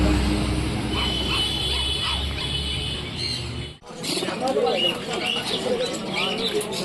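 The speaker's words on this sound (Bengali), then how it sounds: "হাটটা কেমন আওয়াজ হয় হাটে তোমরাও একটু সহ্য করো বন্ধুরা" A noisy pet and animal market at Ranaghat railway station in West Bengal, with pigeons and other animals: a dense, loud din of overlapping animal calls, voices and crowd noise, briefly dipping midway before resuming.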